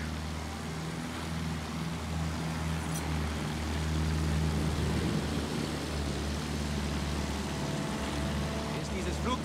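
A World War I aircraft in the Battlefield 1 game gives off a steady low engine drone throughout, with faint crackles on top and speech over it.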